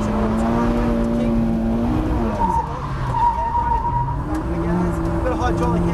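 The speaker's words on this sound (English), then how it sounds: "So drifting's all about keeping the car sliding, so I'm really pushing it just to make sure that I lose traction all the time." A Mitsubishi Evo X drifting, its tyres skidding in long, sustained squeals that waver in pitch over steady engine roar, with someone talking over the sliding.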